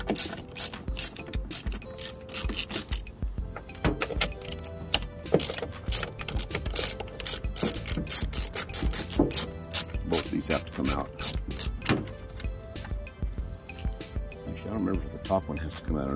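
A ratchet loosens bolts on a Toyota Sienna (2004–2010) sliding side door, making rapid metallic clicking bursts in repeated runs at close range, with brief pauses between them.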